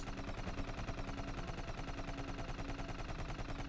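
Rapid automatic gunfire from high-recoil guns in Rusted Moss, a steady stream of evenly spaced shots rattling on for several seconds at moderate volume, with no talking.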